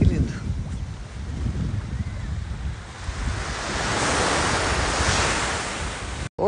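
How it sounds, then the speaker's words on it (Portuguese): Sea waves break and wash onto a beach in a continuous rushing surf, loud and close, with wind buffeting the microphone. "Só pra curtir mesmo, ouvir o barulho do mar."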